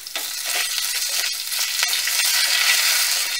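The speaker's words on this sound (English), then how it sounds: "Now we will add the red chili," Red chili and curry leaves frying in oil for coconut chutney, a steady close sizzle with crackling pops throughout and no talk.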